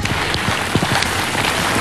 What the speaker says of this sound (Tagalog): Umuulan na oh.